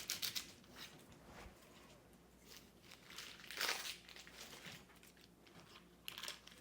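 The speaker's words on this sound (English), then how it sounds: "I'm going to remove the parchment paper." Parchment paper peeled away from a slab of lemon bars with shortbread crust, quiet close crinkling and rustling in short bursts, one louder crackle midway, no talk.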